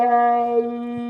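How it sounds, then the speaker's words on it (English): A trombone with a plunger and Pixie mute sustains one buzzy, voice-like note with a slight wah as it opens and closes. "we start to get a much more vocal quality out of the horn."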